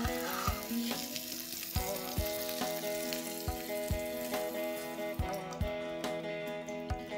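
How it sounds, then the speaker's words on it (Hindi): Paneer shallow frying in oil over a low gas flame, a steady close sizzle broken by regular sharp clicks and knocks of a utensil against the pan, with no talking. "अब हम पनीर को फ्राई करेंगे और गैस की आंच आस्ते रहेगी।"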